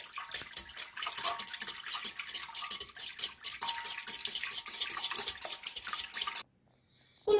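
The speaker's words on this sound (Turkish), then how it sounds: "Tekrar çırpıyoruz." Cake batter with oil and egg is whisked briskly in a bowl, producing a fast, even train of wet slapping and scraping strokes that stops abruptly near the end.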